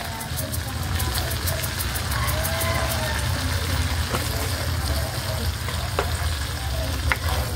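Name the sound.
stirring meatballs with brown sugar in a frying pan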